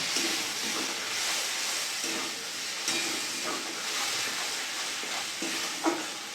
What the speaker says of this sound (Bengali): ভালো করে কষিয়ে নেবো মশলা।